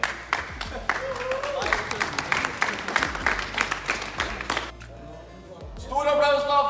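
A crowd at the VisionLan 2018 LAN party applauds the winning team, with scattered clapping and cheering under an announcer's voice before the sound drops briefly and picks up again.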